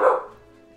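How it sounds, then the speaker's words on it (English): A dog lets out a single sharp bark up close, loud at first and then fading quickly into silence. "This dog can't shut up when I'm trying to record."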